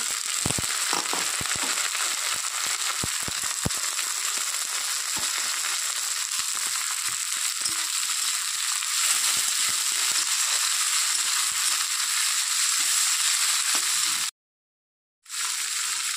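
Prawns drop into a hot pan of browned onions for a pumpkin and prawn curry, setting off a loud, steady, crackling sizzle that runs without a break. A brief near-silence falls shortly before the end, then the frying resumes.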